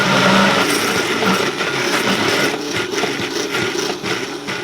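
A Vitamix blender runs at high speed, a loud, steady whirring roar with gritty churning that holds throughout.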